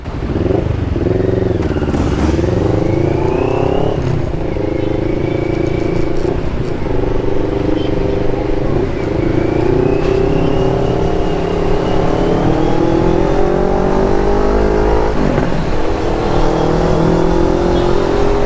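A motorcycle engine runs and revs steadily throughout, rising and falling in pitch, loud and close, with a faint voice now and then.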